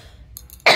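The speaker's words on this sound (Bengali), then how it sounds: "কাশিটা এখনও যায়নি" A single sharp, loud cough bursts out near the end after a quiet stretch, from a woman discussing chilli peppers in a home setting.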